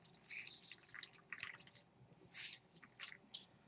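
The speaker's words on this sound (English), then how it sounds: "and you just wring it out, which I'm doing over here." Soft wet squishing and dripping as a soaked towel is wrung out by hand, close and quiet, with scattered squeezes and drips and no talking.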